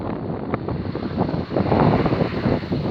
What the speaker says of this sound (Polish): ale trochę wiatr wieje